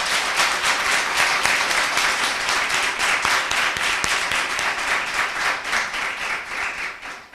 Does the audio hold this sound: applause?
yes